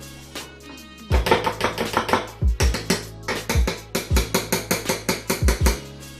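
Starter culture being mixed into fermented protein powder: a quiet first second, then a fast, steady run of loud knocking and scraping strokes that continues to the end, with no talking.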